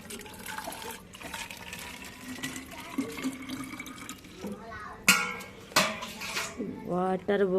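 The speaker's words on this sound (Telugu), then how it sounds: "వాటర్ పోస్తున్నానండి బాటిల్లో పిల్లలకి." Water is poured into a child's drinking bottle in a home kitchen, a steady trickling fill mixed with clinks of dishes and utensils, with sharper knocks near the end.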